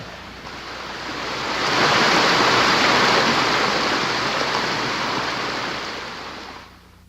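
Water rushes steadily over a huge carved stone surface sculpted with animal figures and human heads at the San Agustín archaeological site in Colombia, a loud, broad wash that swells and then fades slightly toward the end.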